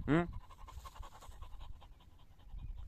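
A dog pants in quick, shallow breaths close by outdoors, following a short vocal sound at the start.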